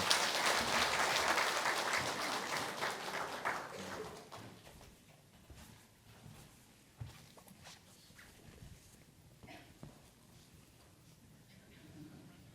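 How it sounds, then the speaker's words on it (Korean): Church congregation applauding in a dense burst of clapping that fades over about four seconds, followed by quiet room noise with scattered footsteps and light taps. "박수로 격려해 주십시다."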